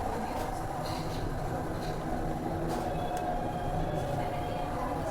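A Delhi Metro Pink Line train rounding a curve, heard from inside the car as a steady low rumble with wheel squeals and faint metallic tones, continuous and close throughout.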